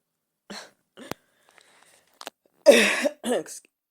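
Several harsh coughs up close, starting with small throat-clearing sounds and ending in a louder burst of coughing, with silence between.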